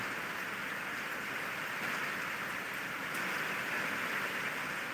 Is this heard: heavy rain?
yes